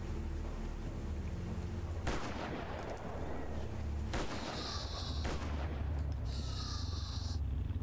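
Sniper rifle shots striking a wall in a jungle-set horror video game, with two heavy, booming reports a couple of seconds apart over a constant ambient bed, followed by ringing, buzzing tones.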